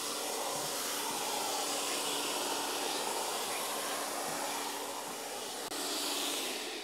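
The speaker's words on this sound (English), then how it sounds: "The next thing you need to do is vacuum out all the old dirt." Steady, loud vacuum cleaner hiss and whine running continuously while the old dirt is cleaned out of a car trunk after the trunk rubber is removed, with no talking over it.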